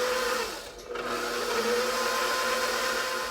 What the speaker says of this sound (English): We're gonna mix it on a low speed with a dough hook attachment